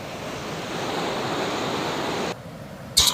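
Rushing waterfall at Chatsworth House, a steady broad hiss of falling water that cuts out abruptly near the end, followed by a brief sharp bump.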